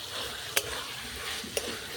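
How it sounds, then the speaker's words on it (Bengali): Spices and salt being stirred in a frying pan for a pani phal (water chestnut) curry, with two short, sharp scrapes of the utensil over a steady low sizzle. "লবণটা আমি পরিমাণ অনুযায়ী কিন্তু দিয়ে দিচ্ছি, দিয়ে ভালো করে আমি নাড়িয়ে নেব"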